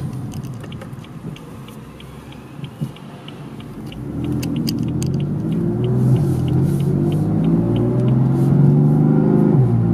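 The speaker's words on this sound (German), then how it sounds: "Auto fährt ganz normal, beschleunigt aber wirklich extrem langsam." A car with app-tuned throttle set to kids mode pulls away, its engine rumble swelling slowly and steadily from a low idle into a louder, sustained drone as it gains speed very gradually, with no speech over it.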